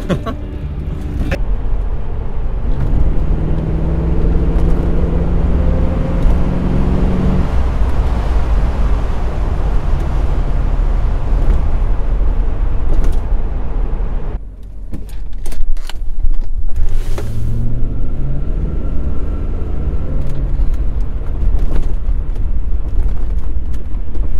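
5.7 liter V8 Corvette, a deep, loud rumbling engine drone heard close up and continuous, with a brief dip and a few clunks partway through.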